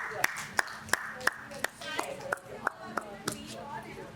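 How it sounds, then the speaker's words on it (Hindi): On a TV game show set, a few hands clap in a slow, regular rhythm, about ten crisp claps spaced evenly, fairly close, while people talk underneath. "शेरी के लिए तालियां होनी चाहिए"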